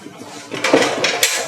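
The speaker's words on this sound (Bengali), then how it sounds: "এরপর পাস্তাটি দিয়ে দিচ্ছি।" Pasta is tipped into a pan during cooking, giving a short clatter of light knocks and scrapes against the metal pan over about a second.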